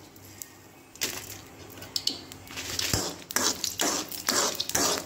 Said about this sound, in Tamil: கடாயில நான் ஆயில் ஊத்திருக்கேன். இப்போ ஃபர்ஸ்ட் பாத்தீங்கன்னா நம்ம காஞ்ச மிளகாவை தான் போடணும்.